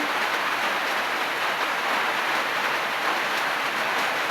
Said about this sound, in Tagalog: Lakas ng ulan dito, guys.